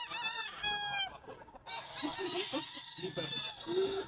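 Gamefowl roosters and hens at a Sunday pet market, with a rooster crowing close by, then clucks and squawks mixed with people bargaining in the background.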